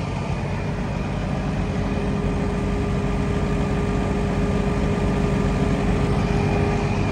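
A Peterbilt truck with a refrigerated reefer trailer idles nearby, a steady low engine rumble with a faint whine running unbroken throughout, no one talking.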